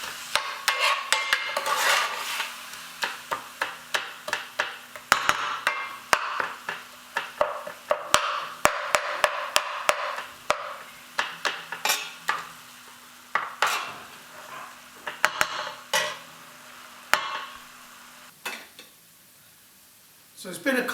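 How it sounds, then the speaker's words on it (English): Minced meat being stirred and broken up with finely cut onions in a pan, with frequent clinks and scrapes of a utensil against the pan over a faint steady sizzle. "I'm just breaking up the minced meat"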